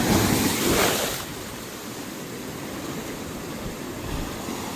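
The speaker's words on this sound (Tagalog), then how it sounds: "Ang bilis dumating ng alon, no? Sunod-sunod." A broad roar of surf crashes loudly at the start, then settles into a steady, continuous wash of waves with wind noise on the microphone, on the beach at Akumal, Mexico.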